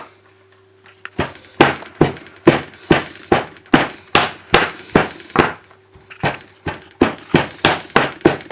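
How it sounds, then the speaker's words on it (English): A chocolate-filled mould is banged repeatedly on a hard surface, giving loud, close thuds in a steady rhythm of about two per second, with one brief pause partway through. "Then we're going to give it a good banging."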